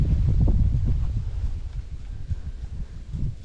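Wind blows outdoors beside an old church ruin, a loud, continuous low rumble of gusts buffeting the microphone, rising and falling without a break.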